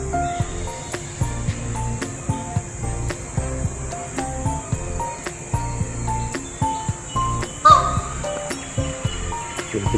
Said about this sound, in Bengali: আর পেছনে নেপথ্যে ঝিঝির ডাক অনবরত চলেছে।